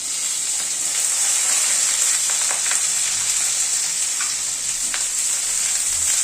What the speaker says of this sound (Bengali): উচ্ছেটাকে মিনিট দুয়েক একটুখানি নাড়াচাড়া করে নিলাম মানে হালকা করে ভেজে নিলাম তারপরে সব সবজিগুলো দিয়ে দিচ্ছি